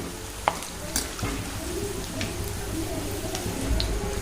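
Round bhaji fritters fry in hot oil in a home kitchen, giving a steady soft sizzle with occasional stirring clinks and scrapes, and a voice murmurs faintly underneath.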